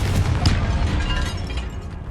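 Confringo fire spell explosion in Hogwarts Legacy: a loud, booming blast with a rumbling low end and a sharp burst near the start, then a fading roar, with no speech.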